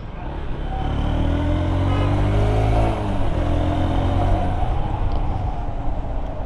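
A Honda Hornet 2.0 motorcycle engine runs with a loud, steady rumbling drone that swells slightly as it revs, heard up close with no talking.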